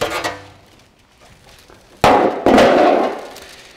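Metal mudguard off an old Austin Healey being handled and removed, with a sharp metallic knock followed by a louder clanging, scraping burst of sheet metal close by, then fading.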